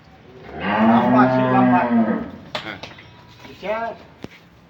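A Holstein Friesian dairy cow at a farm in Dinajpur lets out a long, loud moo nearby, followed by a shorter lowing call, with people talking around it.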